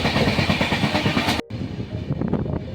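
A moving passenger train on the Durgapur to Jammu route rumbles loudly and steadily near Raniganj, with a brief dip in the noise midway before the rolling din returns, heard close from on board.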